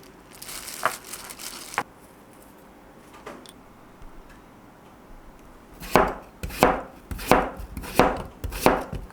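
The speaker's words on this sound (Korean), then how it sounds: "감자를 썰어줬습니다." Potatoes being sliced with a kitchen knife on a cutting board, a run of about six crisp, rhythmic chops close up near the end, after a few lighter earlier knocks and quiet kitchen background.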